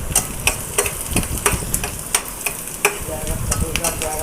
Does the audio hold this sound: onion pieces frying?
yes